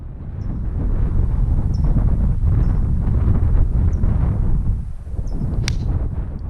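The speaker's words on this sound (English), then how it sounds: "because of the wind going in our direction" Steady wind roars across a microphone on a golf course, a broad, constant rush that dips briefly near the end and then returns, with no voices present.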